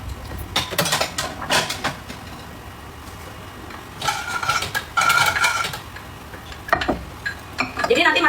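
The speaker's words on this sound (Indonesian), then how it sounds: "Ini kau ambil dulu kuahnya di mangkok lain cepat." Chicken broth for Hainanese chicken rice is ladled from the pot into a separate bowl, with close, intermittent metal-on-ceramic clinks and scrapes coming in short bursts and a faint voice in the background.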